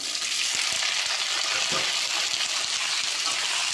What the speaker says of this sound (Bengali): আমি প্রথমে আলুটাকে ভেজে নেব লাল লাল করে